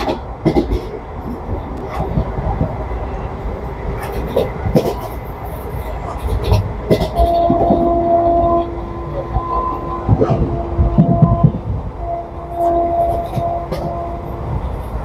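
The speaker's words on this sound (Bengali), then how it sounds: "আমি যে ট্রেনটিতে বসে রয়েছে সেই ট্রেনটি দ্রুত আগ্রার থেকে" A passenger train travelling from Agra rolls along with a continuous rumble and rhythmic clatter, a steady tonal whine rising over the noise in the middle.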